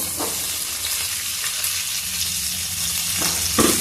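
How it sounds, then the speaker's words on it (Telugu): Green chillies, cumin and tomato pieces frying in a pan give a constant close sizzle, with a few stirring scrapes near the start and end, loud and steady, no speech. "పచ్చిమిర్చి టమోటా పండ్లు వేగుతుంటాయి"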